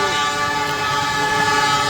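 Loud, sustained train horn sounding a warning at a railway crossing, a steady layered blare holding from start to finish with faint rail rumble underneath.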